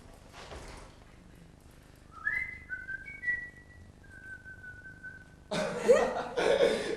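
A person whistles a few sustained, sliding tones in a quiet indoor room, with a brief burst of laughter-like noise at the end.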